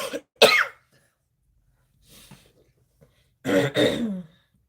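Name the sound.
woman coughing and clearing throat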